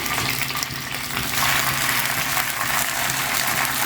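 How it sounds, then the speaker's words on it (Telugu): Gongura leaves dropped into hot oil in a pan, giving a steady bright sizzle that holds evenly throughout with no talking. "కొంచెం ఆయిల్ పోస్తున్నాను. గోంగూర ఇలాగా వేసేసేయాలి."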